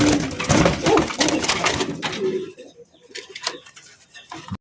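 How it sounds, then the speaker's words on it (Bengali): Big, colourful rasgolla fancy pigeons coo in a low rolling burst up close, then fall quieter as soft scratchy patters and shuffling noises follow. "বন্ধুরা এখানে রয়েছে চমৎকার আরও একটা কালারিং রাসগোল্লা কবুতর"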